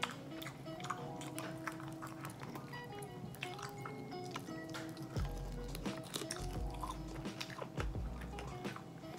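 Someone eats oily Wingstop buffalo wings close to the mic, giving wet, sticky mouth sounds and several sharp crunchy bites, with faint background hum and no speech.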